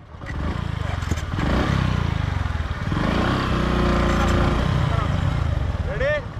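A Suzuki Gixxer and a Bajaj Platina 100cc motorcycle race on sand, their engines droning and revving loudly and close throughout, with voices mixed in.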